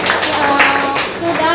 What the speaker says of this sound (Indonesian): Oke, tepuk tangan untuk diri kita sendiri.